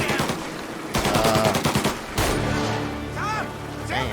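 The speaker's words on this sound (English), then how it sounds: "Damn, he's shooting from way up there." Gunfire from the video game Mafia: Definitive Edition, rapid bursts of close machine-gun and rifle shots rattling in quick succession, with voices talking and shouting over the shooting.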